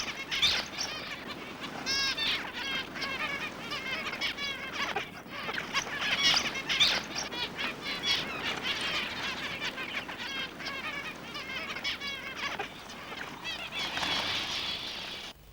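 A flock of grassfinches comes in to drink at a stock dam or bore in Australia. Their wingbeats flutter continuously and a dense mass of high chirps and twitters runs throughout, close and steady.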